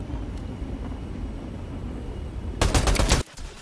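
Fortnite gunfire breaks out as a sudden loud, rapid burst after a stretch of steady game background noise, then stops abruptly.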